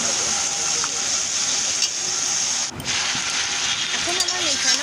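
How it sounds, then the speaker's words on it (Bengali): Marinated mutton is stirred with onions in a hot pan for a curry, a steady sizzling hiss with occasional scraping, heard close and fairly loud. "পেঁয়াজের সাথে ভালো করে মটনটাকে আমি মিশিয়ে নেব।"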